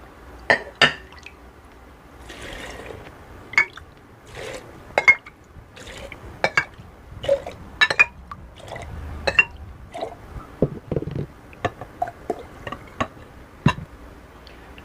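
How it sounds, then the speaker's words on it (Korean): Salt-water brine is poured over peeled garlic in a container, giving soft splashes and drips along with scattered glassy clinks and knocks that come in irregular bursts, close and fairly quiet, with no talking. "요거 마늘 절일 수 있는 아린 맛을 빼기 위해서 절일 수 있게 만들어 놓은 물을 여기다 부어주세요."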